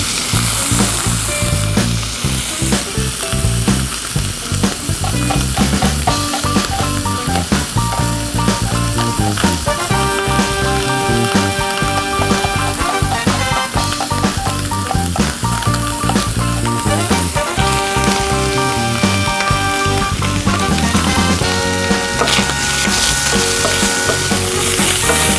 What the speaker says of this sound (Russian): Пока жарится бекон